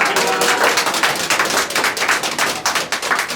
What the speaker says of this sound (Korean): 우리 이수진 네, 의원님께 박수 한번 보내겠습니다